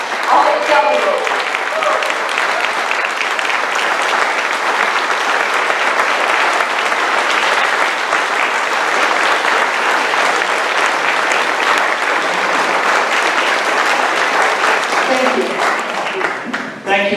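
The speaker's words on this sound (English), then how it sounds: "will everyone join me in acknowledging their courage by giving them a rousing applause?" Sustained, loud applause from a convention crowd at a Hawaii County Democratic Party gathering, honoring District 4 delegates as they stand; the dense clapping runs steadily for the whole stretch, with a little voice murmur near the start.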